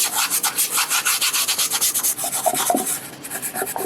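Gearbox mating faces being scrubbed clean by hand in a rapid, even back-and-forth rubbing rhythm, close and crisp with no talking.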